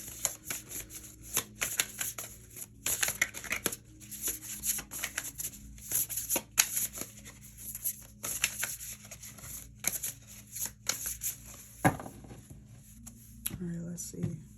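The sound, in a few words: shuffling and pulling tarot cards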